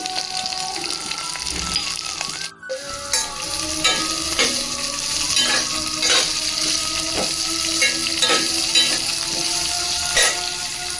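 Cinnamon, cloves and cardamom frying in hot oil, a steady close sizzle with repeated stirring scrapes and one brief pause near the start.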